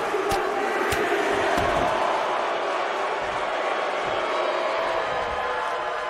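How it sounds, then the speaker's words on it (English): Dense, steady roar of a wrestling arena crowd in WWE 2K19 cheering throughout, a broad wash of noise with a few sharp hits standing out early on. "by the sound of this crowd, I think they're getting what they wanted"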